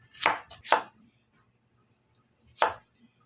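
A knife cuts okra into large pieces on a board: two quick chops close together, a pause, then one more, crisp and close in an otherwise quiet room.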